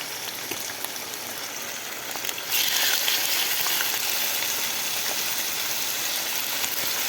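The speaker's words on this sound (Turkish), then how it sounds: "Tavuk göğüslerini alt üst güzelce kızartıyoruz arkadaşlar" Chicken breasts sizzle and crackle in a hot pan, quiet at first, then jumping to a louder, steady frying hiss that continues to the end.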